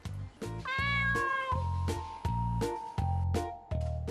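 A stray cat on a rooftop by a macaron cafe meows loudly and repeatedly in a steady run of drawn-out cries, with rhythmic thumping noise underneath.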